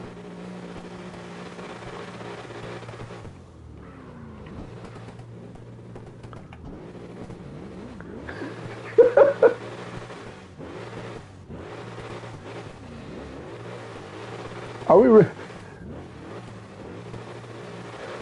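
Trucks with V8 engines drift in tandem in the CarX video game, their engines droning and revving at a moderate level, with two brief sharp bursts of tire squeal or scraping.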